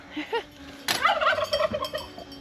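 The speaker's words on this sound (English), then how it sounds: "I'm not seeing the turkey babies." A wild turkey outdoors gives a short, rattling gobble, moderately close, preceded by a couple of softer bird calls, with no one talking over it.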